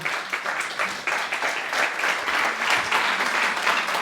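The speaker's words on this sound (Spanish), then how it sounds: "así que vamos a darle un aplauso a Lidia García García." An audience claps for a speaker being introduced at a neighborhood lecture series, dense continuous applause with a steady texture throughout, close and moderately loud.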